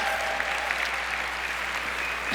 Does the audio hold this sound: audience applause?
yes